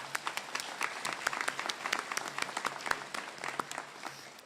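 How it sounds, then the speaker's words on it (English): Audience applause for teachers at the Pamlico County High School 2025 graduation ceremony: dense, steady clapping from a crowd that holds for several seconds with no talk over it. "Let's give them a round of applause."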